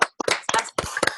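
Brief, close applause for honour roll students at a campus ceremony, a few sharp irregular bursts of clapping from a small group with short gaps between.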